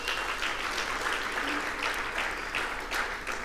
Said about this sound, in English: I'd like to please give a round of applause for them.